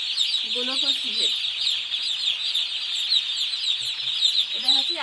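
Day-old baby chicks peep constantly in a high, dense chorus after release, a steady close twitter filling the whole stretch, with a few lower clucking calls from older birds near the start and end.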